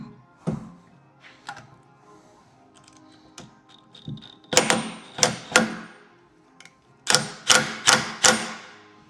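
Spare wheel mount on a Land Rover Defender L663 being tightened with a tool, with sharp metallic clicks and ratcheting taps, close, coming in quick bursts of several clicks after quieter fiddling.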